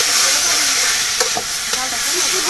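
Mango jelly pickle cooks in a pot while being stirred, giving a continuous close hiss and sizzle with a couple of soft scraping strokes.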